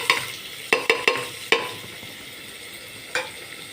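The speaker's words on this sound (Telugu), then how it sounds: "అవి కొంచెం వేడయ్యాక సన్నగా తరిగిపెట్టిన ఉల్లిపాయ ముక్కలు వేస్తున్నా" Thinly sliced onions going into a hot pan with pepper and kasuri methi for mutton curry, giving a soft steady sizzle broken by several sharp clacks of a spoon against the pan early on and one more near the end.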